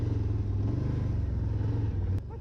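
A 2024 Can-Am Outlander 1000R Max XT ATV's big engine rumbles loud and steady nearby, a low throbbing idle that drops slightly near the end.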